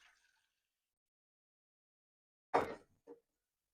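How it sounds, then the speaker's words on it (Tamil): A little water poured from a vessel into a pot on a stove: one short splashing gush, then a brief small trickle, with near silence around it. "அதை கொஞ்சோண்டு தண்ணி ஊற்றிக்கோங்க."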